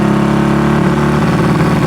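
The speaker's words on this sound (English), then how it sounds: "Transmission's working and the engine sounds good." A Honda CB200T motorcycle engine with a broken camshaft and carburetor trouble runs loud and close, its steady low drone stumbling and breaking up midway before the uneven firing carries on, with no voices.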